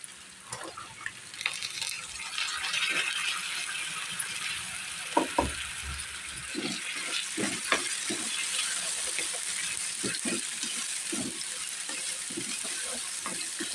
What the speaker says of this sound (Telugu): వీటిని కూడా చక్కగా కొంచెం ఫ్రై అయ్యేలాగా కాస్త అటు ఇటు తిప్పుకోవాలి